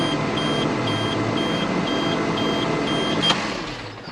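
A short, thin electronic beep repeats at a steady rhythm about twice a second near a slurry tanker, sitting over a constant engine-like drone until it stops near the end.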